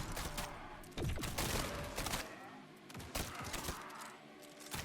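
Rapid bursts of shotgun fire from the video game Grind Survivors, loud clustered blasts repeating in quick volleys over a busy, continuous game soundscape, with no talking.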